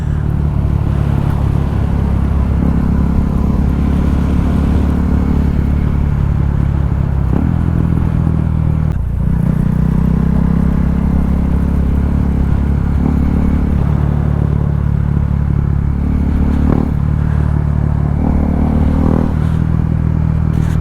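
A KTM 390 Duke motorcycle engine drones steadily on a test ride, its tone shifting as the rider changes speed, with wind and road noise mixed in and no talking.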